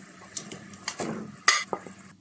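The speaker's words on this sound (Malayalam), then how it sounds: "ഫ്രൈ ചെയ്ത് വയ്ക്കുന്ന ചിക്കനിൻ്റെ അകത്തേക്ക് ഇട്ട് കൊടുക്കുക" Clattering of a pot and utensils with a brief wet splash and scraping as fried chicken drops into a simmering Punjabi-style gravy, close by, with no talking.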